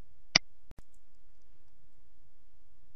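A single crisp mouse click on a Close button in D2L Brightspace, followed by a softer double tick and then near silence.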